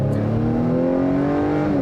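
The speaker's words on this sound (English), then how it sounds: "The engine also makes very pleasant noises compared to the CVT groan that you get." The engine of a 2021 Acura TLX A-Spec accelerates, with a loud, smooth tone that climbs gradually and holds close throughout. No speech.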